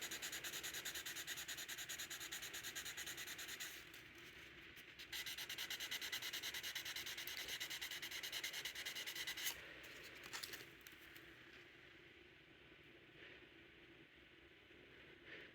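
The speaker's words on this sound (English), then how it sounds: "Now I'm going to sand in one direction only." Sandpaper rubs back and forth by hand in a single direction along a Case pocketknife, a steady close scratching that pauses briefly and then grows fainter near the end.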